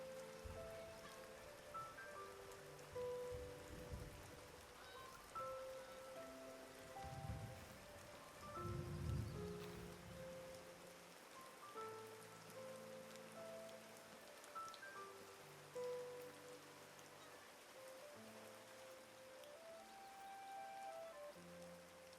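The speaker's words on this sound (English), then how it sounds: "It's raining." Rain falls steadily in the village-building game Fabledom, a soft continuous patter heard beneath light game music, with no voices.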